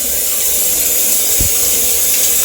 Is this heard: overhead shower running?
yes